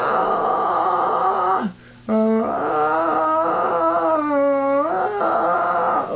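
Screamo vocal growl with a crunchy, distorted throat tone, a raw sustained scream delivered alone in a few phrases with a brief breath gap, howling and pitch-bending at the end.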